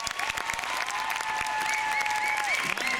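Audience applause for winners of a student prize, with the third prize just announced at a ceremony; dense, steady clapping fills the whole stretch at a fairly loud level, with a few sustained tones running beneath it.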